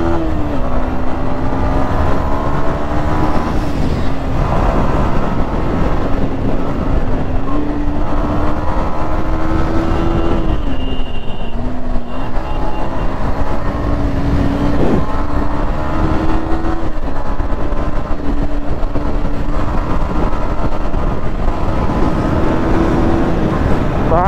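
A motorcycle ridden at night, its engine droning loudly and steadily the whole time with slowly shifting pitch as the rider speeds up and eases off, and wind noise washing over it.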